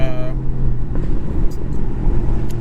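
A Chrysler 300C with SRT headlights drives along with a steady low engine and road rumble heard from inside the car. A brief voice sounds near the start.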